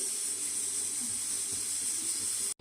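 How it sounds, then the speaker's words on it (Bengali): Lentil-cake dhoka stirred in hot oil, giving a steady close frying hiss that holds evenly for the whole stretch and then cuts off abruptly near the end. "এই যে ধোকাটা ভিজিয়ে রেখে এবার তেলে একটু নেড়ে নিচ্ছি"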